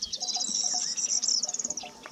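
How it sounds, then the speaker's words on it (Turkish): High, rapid chirping trills run continuously and close by, a bright twittering of small birds singing without pause. "etrafında mükemmel şekilde, şekilde öten kuşlar var"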